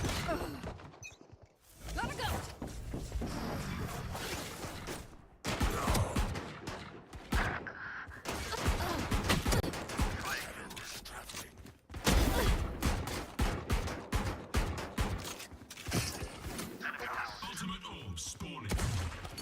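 Rapid bursts of gunfire from a video game gunfight, dense and loud, with volleys layered over one another and only brief pauses between exchanges.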